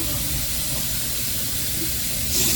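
Liquid poured into a hot pan of pasta e ceci hisses and sizzles, a broad, steady steam hiss filling the whole moment at an even level, close up and without speech.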